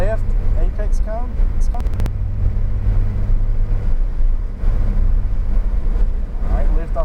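A Porsche accelerates around a coned track. Its engine hums steadily, close by, beneath a voice giving driving instructions.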